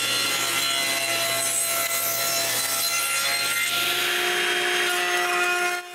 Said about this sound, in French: puis je coupe des bouts carrés à la grosseur des petits trous